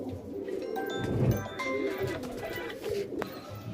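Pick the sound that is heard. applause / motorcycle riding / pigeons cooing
pigeons cooing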